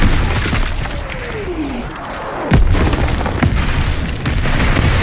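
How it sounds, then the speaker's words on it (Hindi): Artillery shells burst in Call of Duty WW2 over a loud, continuous rumble of battle, with a whistling descent and a heavy nearby boom at mid-point, then more thuds. "आर्टिलरी शेल्स जो होते हैं आर्टिलरी शेल्स हम पे गिराया जा रहा है"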